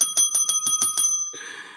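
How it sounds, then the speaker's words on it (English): A small bell, like a bicycle bell, is rung in about seven quick, bright strikes close by. The ringing then gives way to a softer, fading ring and background hiss. "You want to ring the bell?"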